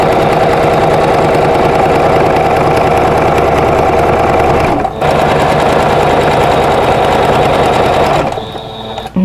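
A sewing machine runs continuously, stitching binding onto a quilt, its needle hammering in a fast, even buzz that pauses briefly midway and then slows to a stop near the end.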